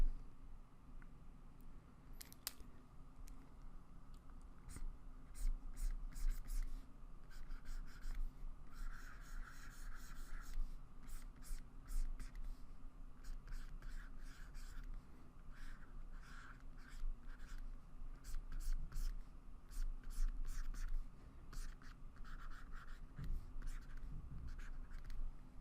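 Pen or stylus sketching a leg drawing, with long stretches of quick scratchy strokes and rubbing, close and fairly quiet, continuing steadily with brief pauses.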